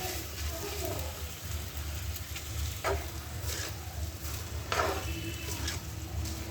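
Rice tossed into a hot pan for street-style Chinese fried rice, with a steady close sizzle and occasional scraping stirs. No one speaks.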